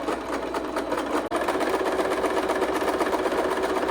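A sewing machine runs steadily through a straight stitch, a fast, even mechanical whir heard up close and alone, with one very brief pause partway through.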